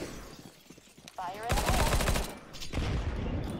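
Gunfire in the video game Counter-Strike: a dense burst of loud shots in the middle, a brief lull, then more firing, with game sounds around it.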